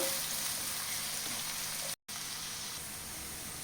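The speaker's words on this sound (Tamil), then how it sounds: "வெங்காயம் நல்லா வதங்கட்டும்" Finely chopped onions sauté in a pan for spinach paneer gravy, giving a steady close hiss like light rain, briefly cut off once, with no talking.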